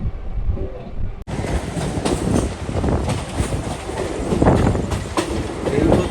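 A local train runs from Kanchrapara toward Sealdah with a loud, continuous rumble and rattling clickety-clack of wheels, heard from inside the carriage after a sudden jump in volume near the start.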